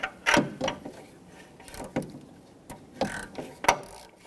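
A ratchet on a 22mm O2 sensor socket works the upstream oxygen sensor of a 2007-2017 Jeep Patriot 2.4L loose, giving a series of sharp clicking ratchet strokes and a few metallic knocks at uneven intervals, close up and with no talk.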